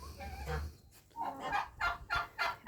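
A tom turkey penned together with turkey hens gobbles in a string of rapid, rattling bursts, fairly close and loud, with a low rumble at the start and no talking.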